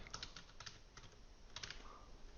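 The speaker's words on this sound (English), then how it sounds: "if I come here and type something" Typing on a computer keyboard, a quiet, close run of light irregular key clicks in bursts against a faint background hiss.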